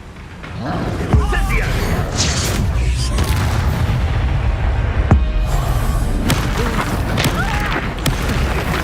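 Spell explosions from the Expulso blasting charm in the Hogwarts Legacy video game: loud booming thuds, a sharp burst near 1 s and another near 5 s, over continuous battle rumble and effects, with voices speaking throughout.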